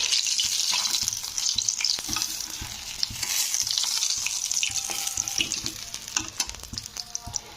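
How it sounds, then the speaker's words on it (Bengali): Koi fish frying in oil, with a bright continuous sizzle and occasional clatter of stirring and handling close by. "এবারে আমি তেল থেকে মাছগুলো তুলে নিচ্ছি"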